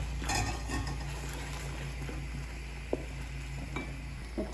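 Cooked green gram is stirred into melted sugar for a sweet dumpling filling, with soft spoon scrapes against the pot, a faint sizzle and a couple of sharp metallic clinks, close and quiet with no speech.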